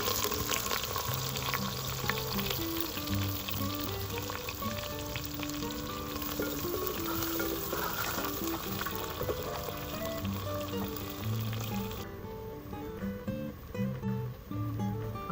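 Chopped onion frying in oil in a pan with whole spices, a steady loud close sizzle that runs unbroken throughout with occasional stirring and no talking.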